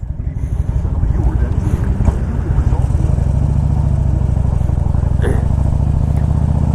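A fuel-injected 2001 Harley Davidson Ultra Classic motorcycle engine runs with a loud, steady, deep rumbling throb, mixed with wind buffeting on the microphone.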